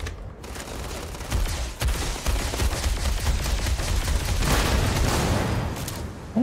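Rapid gunfire rattles in Starfield combat against a large robot, dense overlapping bursts of shots and booming impacts pounding continuously throughout.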